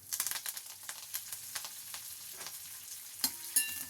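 Cashews, urad dal, asafoetida and curry leaves fry in hot oil, giving a soft, close crackle with light scraping stirs and a few sharper pops near the end.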